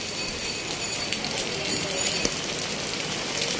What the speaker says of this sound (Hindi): देख सकते हैं आप बारिश का मौसम